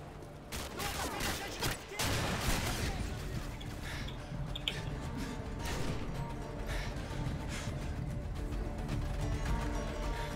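Rapid gunfire bursts and scattered shots crack through a Call of Duty MW2 multiplayer match, fairly quiet and continuous with some heavier impacts near the start and an ongoing din of game noise.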